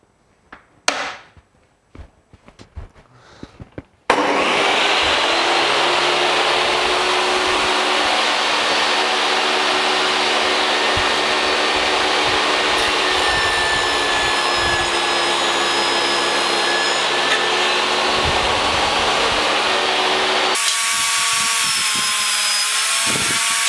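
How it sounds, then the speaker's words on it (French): A DeWalt table saw cutting wood, heard as a loud, steady motor whine and blade roar that runs continuously for about sixteen seconds, with the pitch shifting near the end, after some brief handling knocks at the start. "je passe sur la scie sur table d'Ewalt"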